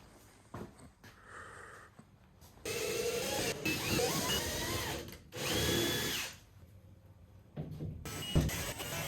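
A power drill cutting a square hole runs in several bursts of high whirring, with short pauses between, close and fairly loud, on a 25 ft Bertram boat project.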